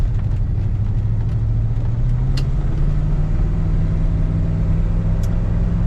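A 1970 Buick Electra 225 convertible's 455 V8 revs up and accelerates, a steady low rumble rising gradually in pitch, close and continuous with no talking.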